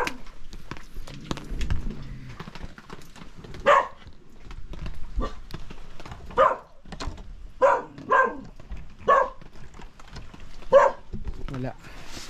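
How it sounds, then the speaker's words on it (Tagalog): A dog barks repeatedly in sharp, spaced bursts along a muddy trekking path, fairly close, with footsteps and brief voices in between. "May aso lang."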